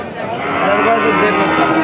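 At a cattle market in Chaugachha, Jessore, a cow lets out one long, loud, close moo that swells and holds for nearly two seconds, with people's voices murmuring in the background.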